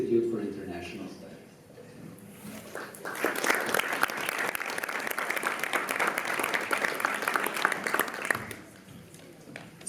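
Audience at a lecture on Russia bursts into applause after a brief stretch of talk, a dense sustained clapping that swells in and holds for several seconds, then cuts off abruptly near the end.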